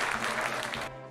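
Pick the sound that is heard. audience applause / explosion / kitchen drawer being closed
audience applause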